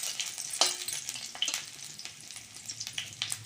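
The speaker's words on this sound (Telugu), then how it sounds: "ఆనియన్స్ వేగిపోయినాయండి" Onions and dried red chillies fry in oil in a pan, giving a quiet, steady sizzle with occasional crackles and stirring scrapes close by.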